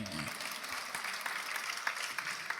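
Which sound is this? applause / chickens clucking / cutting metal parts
applause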